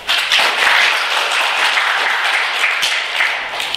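Audience at a Toastmasters transformation workshop in Muscat, Oman breaks into dense, sustained applause. It is loud and close throughout, a continuous wash of many hands rather than a single clap, and no talking is heard.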